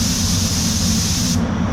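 A Gunman Edition Pro Light T21.3 spray gun blows a loud, steady hiss of air, which cuts off sharply near the end while a low compressor-like rumble continues underneath.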